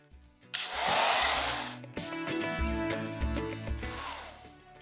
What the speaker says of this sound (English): I'm gonna go get the hair dryer and then hopefully this will dry up nicely